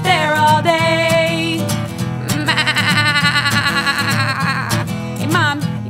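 Sheep bleating repeatedly in a children's concert song, loud wavering bleats layered over steady music with a regular beat, sounding throughout the short stretch.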